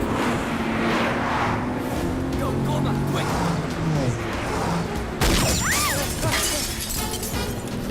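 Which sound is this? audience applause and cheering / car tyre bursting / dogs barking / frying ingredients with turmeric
car tyre bursting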